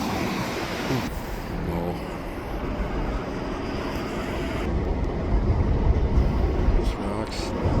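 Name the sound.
freight train passing on tracks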